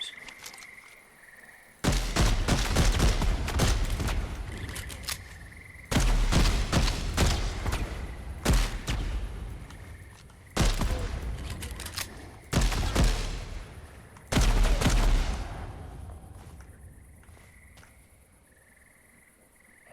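Automatic gun fire in a sci-fi shooter video game, loud sustained bursts of rapid shots in four or five long volleys separated by brief pauses, with a steady high electronic tone underneath.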